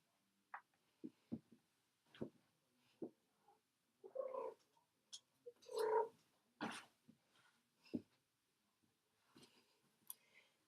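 A pet cat makes soft, close purring and chirping sounds, brief scattered bursts with quiet gaps between them, faint and intimate.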